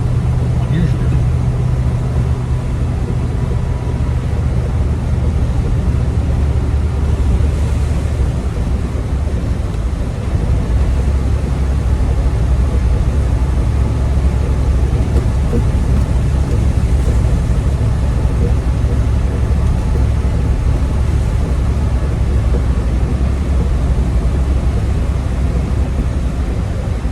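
A 1990 Land Rover 90 V8 County station wagon on the move, with a continuous low engine drone, road rumble and wind noise steady throughout, loud and close from inside the cabin.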